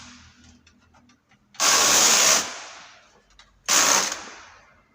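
Carriage of a knitting machine set to tension 7 sweeping across 41 needles of a chunky cardigan row, two loud rasping whooshes close by, the first longer, separated by quieter clicking between passes.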